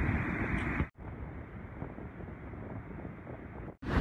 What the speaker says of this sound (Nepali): बल्ल चिसो हावा पाए